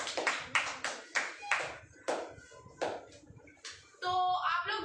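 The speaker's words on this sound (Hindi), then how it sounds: "तो एक बार आदित्य जी के लिए ताली होनी चाहिए" An audience at a children's school event claps in scattered, uneven bursts, loud at first and then thinning out, with a brief tonal sound at the end.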